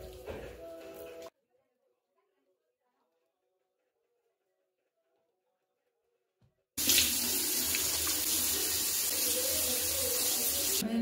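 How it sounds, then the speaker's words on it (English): A bathroom tap is turned on for face washing, giving a loud steady rush of running water close by, preceded by a long near-silent gap and a short earlier burst of splashing water. "So I first wash my face."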